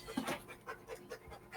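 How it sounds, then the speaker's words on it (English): A puppy pants in quick rhythmic breaths, close and fairly soft, while her belly gets scratched. "I'm just going to scratch my puppy's belly because she's lined up for it."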